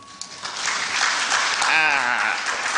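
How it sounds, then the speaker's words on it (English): Audience applause at the National Wildlife Corridors Forum, a broad steady wash of clapping that swells and continues while a voice speaks over it. "can you clap for him?"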